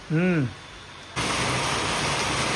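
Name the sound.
heavy rain falling outside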